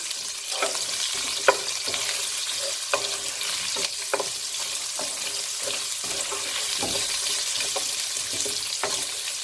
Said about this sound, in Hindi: अब हम इसको जब तक फ्राई करेंगे जब तक प्याज का कलर लाइट ब्राउन ना हो जाए